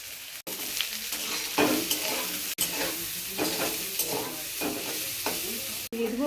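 Onion frying in hot oil in a pan gives a steady sizzle, broken by repeated stirring and scraping strokes, close and fairly loud, with a couple of brief dropouts.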